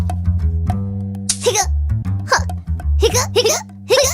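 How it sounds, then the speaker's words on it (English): Short, sharp hiccups repeat several times at close range, sitting over sustained low tones. "When you have the hiccups, you make short, repeating sounds in your throat that you can't control."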